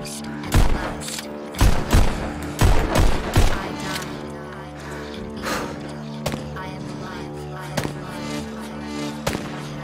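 Rapid pistol gunfire in the VR shooter Pistol Whip, several clustered bursts of sharp shots over a steady music bed, with a few isolated shots later on.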